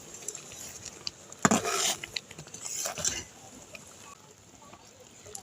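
Metal spatula scraping and tapping through mango pickle in a pan, a few short rasping scrapes and clinks clustered in the middle, moderately close and fairly quiet.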